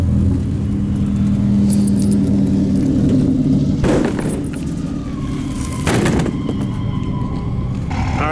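A Cummins diesel truck engine idles and warms up with a steady low rumble, broken by a couple of sharp knocks or bangs partway through, heard close and continuous.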